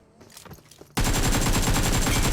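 Rapid automatic gunfire in the mobile battle-royale game PUBG Mobile starts abruptly after quieter shuffling and sustains as a loud, dense stream of closely spaced shots.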